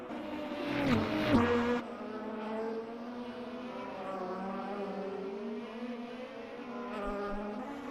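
IndyCar race cars at Barber Motorsports Park, engines droning at high pitch as one sweeps past with a rising and falling whine, then sustained buzzing engine noise continuing at moderate distance.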